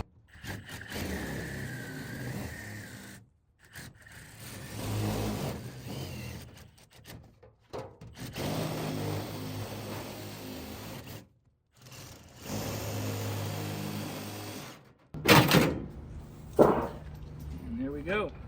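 Drill-driven turbo shears cut sheet metal on a furnace, making several bursts of buzzing motor whine and grinding separated by brief silences, with a sharper, louder burst near the end.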